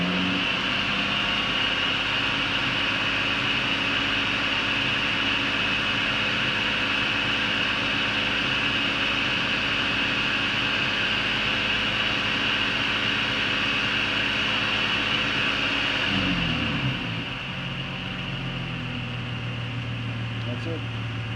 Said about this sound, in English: I'm going to rev it up a little bit, and I'm going to hold it for like